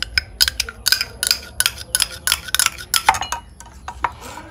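A spoon stirs lime smoothie ingredients with syrup in a glass, making a quick run of bright, close clinks and taps against the sides.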